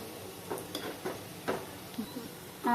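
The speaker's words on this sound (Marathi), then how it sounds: "हे असे छान गोल्डन ब्राऊन होईपर्यंत तळायचं" Semolina dahi vadas fry in hot oil until golden brown, giving a soft, low sizzle with a few gentle stirring clinks and scrapes at scattered moments, fairly quiet and without speech.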